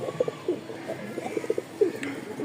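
Several pigeons coo in soft, repeated low bursts close by, with brief pauses between calls and a faint background hum.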